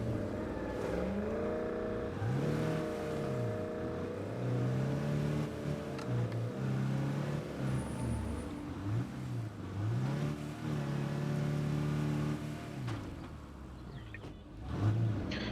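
A car engine in the State of Decay 2 video game revs up and down repeatedly, rising and falling in pitch, loud and steady throughout with no talking.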